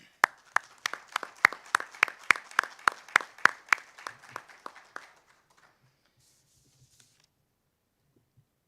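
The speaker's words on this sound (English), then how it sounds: "A round of applause for him." Applause at a school board meeting for a retiring coach: a small group's sparse, distinct claps, fairly close and moderately loud, fading out after about five seconds into quiet room tone.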